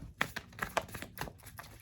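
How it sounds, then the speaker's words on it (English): A tarot card deck being shuffled close up, a quick run of soft riffling clicks and taps in an uneven rhythm, quiet and alone. "I'm just going to shuffle it again just for the heck of it"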